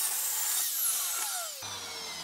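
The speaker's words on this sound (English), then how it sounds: "using another nifty feature of miter saws, which allows me to rotate the blade in order to miter the entire edge of a piece of timber" A miter saw with its blade rotated for a bevel mitres the full edge of a timber board, a steady whining cut with a descending blade tone, fairly close and alone with no talking.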